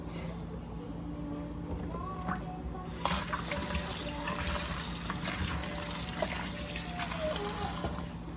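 Pork chop meat washed with water and vinegar: a soft, steady trickle and splash of running water, fairly quiet and close, with light handling sounds and no speech.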